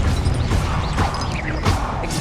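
Confringo, a fire spell, cast in the video game Hogwarts Legacy, with a loud, dense blast that repeats in several bursts and runs over steady game noise across the whole moment.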